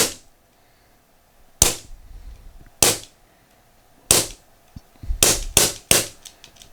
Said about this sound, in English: this is going to be probably 8 to 10 heavy shots